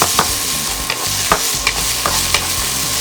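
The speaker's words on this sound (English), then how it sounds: "I'm gonna saute 1 cup of finely chopped potato." Finely chopped roasted potato sautéing in a pan gives a bright, continuous sizzle broken by regular scraping stir strokes, loud and close, with no voices.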